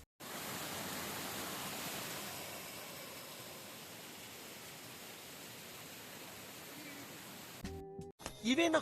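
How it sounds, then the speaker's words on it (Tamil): A small waterfall at Thonippara in Kerala gives a steady, dense rushing roar that fades slightly over several seconds before a short, louder burst of other sound breaks in at the end. "வந்து பார்த்தா குட்டியாக ஒரு அருவி."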